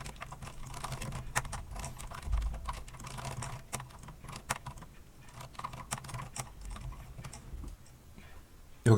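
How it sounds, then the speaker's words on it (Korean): Steady keyboard typing at a computer keyboard while entering music-composition code, with irregular quick keystrokes running throughout at close range and a louder clack near the end. "우선은 이렇게 좀 따라서 타이핑을 좀 해주세요."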